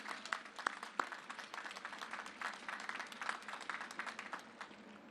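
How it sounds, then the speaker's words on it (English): Scattered clapping from a crowd at a US Navy ship commissioning ceremony, faint and distant, with sharper individual claps standing out near the start. "how about a round of applause for all the employees for Ingalls one more time"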